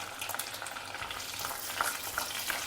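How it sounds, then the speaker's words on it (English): Garlic, peeled onions and chopped okra frying in oil, giving a steady close sizzle and crackle with light stirring scrapes and no voices. "let everything fry well in the oil"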